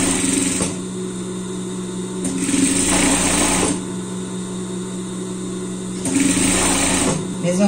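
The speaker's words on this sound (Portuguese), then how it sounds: "Rebatendo essa costura aqui" Sewing machine topstitching a seam in three short bursts of rapid, buzzing stitching, loud and close, with quieter gaps and a voice between them.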